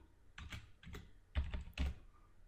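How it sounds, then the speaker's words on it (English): Four short bursts of computer keyboard keystrokes, typing a Jupyter notebook command, clustered clicks spaced about half a second apart, close and fairly quiet, with no talking. "I'll type in Jupyter space"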